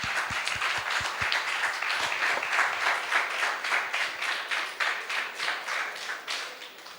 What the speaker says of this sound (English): everybody who has participated vigorously for this, I think deserve a huge round of applause for everybody.